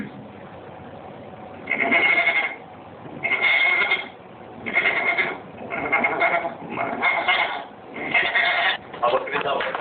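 An Indian beatboxer uses his voice to imitate a goat bleating. About six wavering bleats come close and loud, one after another, each separated by a short pause.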